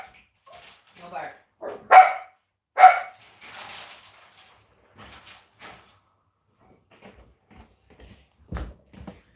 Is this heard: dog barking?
yes